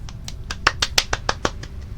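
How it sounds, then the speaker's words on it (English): Roughly a dozen quick hand claps from one person, sharp and close, spaced fairly evenly with a few louder ones in the middle, alone with no talk. "That's me clapping like a girl."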